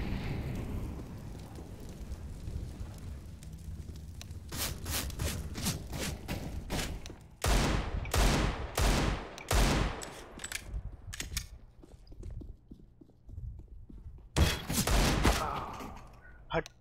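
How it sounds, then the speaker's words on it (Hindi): CS:GO gunfire: quiet at first, then several sharp rapid shot bursts in clusters, with loud thudding reports near the middle and end, and a faint background murmur. "गन चल रही है भाई"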